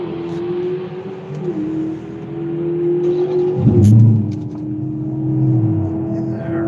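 A race car on a track accelerates with a steady, loud engine drone that climbs in pitch, surges as it passes close by, then settles back into a sustained howl.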